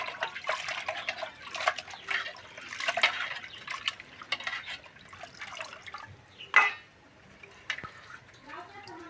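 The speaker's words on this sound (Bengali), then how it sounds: "এখন আম্মা মাংসটা ভালোভাবে ধুয়ে নিব।" Chicken meat is rinsed by hand in water in an open village setting: close, irregular splashing, dripping and trickling that comes and goes, with one brief louder splash near the end.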